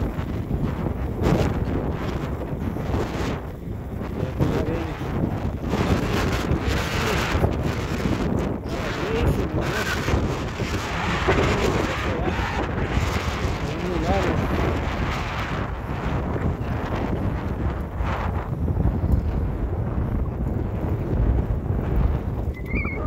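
Headwind buffets a cyclist riding a seaside bike path at Sandy Hook, a constant gusty rumble on the microphone with a voice speaking at times.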